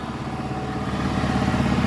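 A Massey Ferguson 7718S tractor engine idles steadily, a low rumble continuously and fairly close, a throaty drone holding an even pitch for the whole short stretch.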